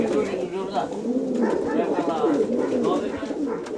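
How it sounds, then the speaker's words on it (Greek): Pigeons cooing, several soft rolling coos close by, repeating over a few seconds while a person talks over them. "Ένα περιστέρι είναι πάνω."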